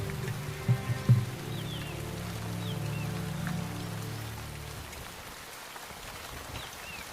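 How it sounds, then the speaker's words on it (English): Steady rain falls in an Indian jungle, a soft diffuse patter on foliage with faint birdcalls above it and a low rumble early on, moderately quiet and continuous. "The downpours get heavier and more frequent."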